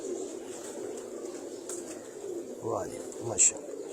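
Golden-breed pigeons coo softly a few times near the end, low murmuring calls under a steady background hum with people talking nearby.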